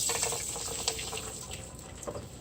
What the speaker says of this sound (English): you see we're going to pour our egg mixture